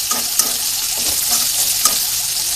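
Garlic paste and slit green chilies sizzle steadily in hot oil for a Bangladeshi salted hilsa and baby potato bhuna, with a few stirring clinks and crackles over a continuous close frying hiss.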